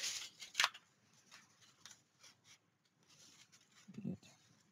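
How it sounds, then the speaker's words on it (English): Scissors snip through paper for a 7x9 mini album, with one sharp cut standing out early and a few softer snips and handling sounds after it, all faint and close. "We'll cut just a little more."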